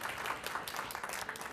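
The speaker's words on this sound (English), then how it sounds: "we should give Central a round of applause" Board of education meeting audience applauds the Central High math club, with dense, brisk clapping heard up close throughout.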